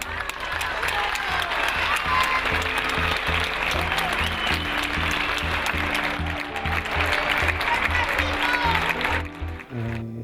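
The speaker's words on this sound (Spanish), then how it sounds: "esos aplausos de la gente" A crowd of people applauding warmly and continuously, dense clapping that swells and holds for about ten seconds before tapering at the end, with some faint cheering mixed in.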